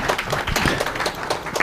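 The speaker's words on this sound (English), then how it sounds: "Colleagues, can we give him a round of applause?" Brief burst of clapping from colleagues at a high-level regional conference on forced displacement, a moderate, close round of applause for a speaker.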